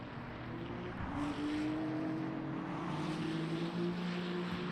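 A race car engine in Le Mans Ultimate drones steadily at part throttle, its pitch rising slightly and holding without reaching full revs, with no talk over it.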